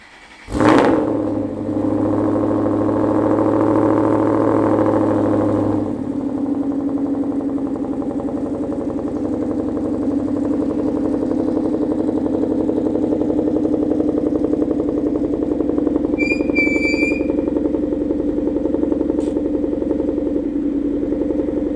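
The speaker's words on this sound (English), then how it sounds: "the Corsa exhaust is just so clean" A car fitted with a Corsa exhaust cranks and fires on a cold morning, a sharp start burst leading into a loud, steady idle that sits close and continuous, with a couple of brief high squeaks near the end.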